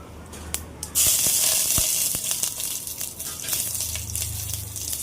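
Mustard seeds, urad dal and curry leaves hit hot oil with a sudden loud sizzle about a second in, a steady hissing crackle with scattered pops that carries on to the end.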